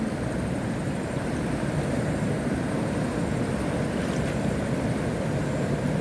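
Floodwater surging like sea waves, slapping up and hurling wood along, makes a steady, loud broadband roar of rushing and churning water with no distinct individual splashes, continuing unbroken throughout.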